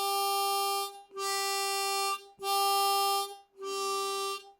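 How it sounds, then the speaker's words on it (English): Four sustained tones on a C blues harmonica, alternating between a hole 2 draw and a hole 3 blow that land on the same G pitch, each held steadily for about a second with short breaths between, close and clear. "I'm drawing on hole 2 evenly"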